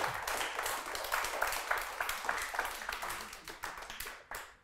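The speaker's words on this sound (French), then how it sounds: "Je vous propose de les remercier et de les applaudir." A seated audience applauds at a talk, with many hands clapping in a dense, steady patter that thins out toward the end, heard at moderate level.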